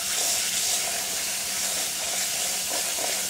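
Canned chickpeas for hummus are rinsed under running tap water, a steady, close, broadband hiss of flowing water that continues throughout without speech.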